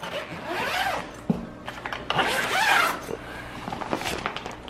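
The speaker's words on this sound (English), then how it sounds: "undo some zippers" Zippers on the insulated cover of an ICECO JP40 portable fridge are pulled open in a few long rasping strokes, close and loud, with soft fabric rustling between them.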